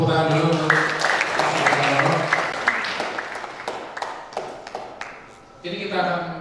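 Audience applause at a theatre discussion forum, a spread of scattered hand claps and taps filling the room, with a voice speaking over part of it and a brief dip before clapping swells again near the end.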